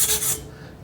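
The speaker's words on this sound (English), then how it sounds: "It's not really coming out with this sandpaper." Sandpaper rubs over a chromed steel bicycle frame, a brief close raspy scrubbing with two quick strokes that fades away within a second.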